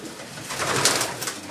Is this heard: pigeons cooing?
yes